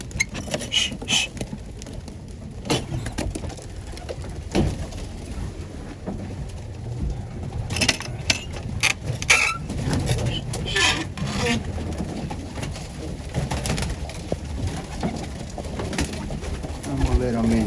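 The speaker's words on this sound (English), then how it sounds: "I'm gonna let these birds in" Pigeons being let into a loft, with cooing, wing flutters and scattered pattering over steady background noise while a person talks.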